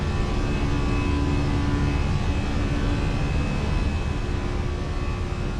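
Engine thrust of a Fenix A320 in Microsoft Flight Simulator, a steady broad roar with a low rumble and a faint high whine, holding constant throughout with no talk.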